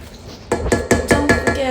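A KitchenAid stand mixer beats bananas into creamed butter and sugar for banana bread, with the beater knocking against the bowl in a steady run of five or six close, regular clanks.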